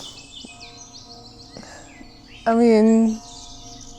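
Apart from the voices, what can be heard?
birds singing on the Mullerthal Trail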